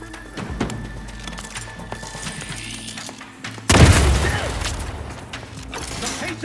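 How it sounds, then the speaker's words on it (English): A grenade blast in the video game Outer Worlds 2, a sudden loud booming burst midway that rumbles and slowly decays, following a stretch of quieter mechanical game ambience. "Explosion imminent."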